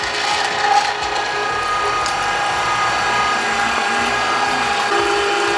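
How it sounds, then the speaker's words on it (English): Electric meat grinder started by foot pedal and grinding sausage meat for a mushroom bacon Swiss sausage, a loud continuous mechanical whir with gear-like rattling, close by, steady throughout with no speech. "So I'm going to step on my foot pedal and start grinding."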